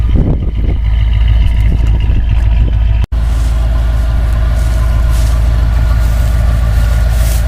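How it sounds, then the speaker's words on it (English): Ford 460 V8 idling in a 1986 Tioga Class C motorhome with a 3-inch exhaust, a loud, smooth, steady low rumble that drops out for an instant at one point and then carries on. "That is a smooth sounding engine. It's a Ford 460."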